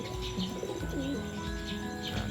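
Racing pigeons coo in low rolling phrases while thin chirps and tweets sound alongside, a close, steady chorus of birds with no talking.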